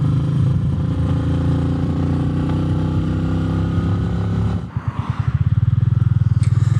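A Royal Enfield motorcycle on tubeless Bridgestone tires rumbles along with a steady engine drone. Near the end it slows to a pulsing, thumping idle-like beat.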